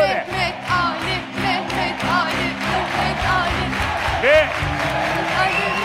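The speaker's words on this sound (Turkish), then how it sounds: "Bir daha alkışlıyorlar" Studio audience in a Turkish TV wheel-of-fortune game show clapping and cheering, a steady dense crowd wash with whoops and a host's voice talking over it throughout.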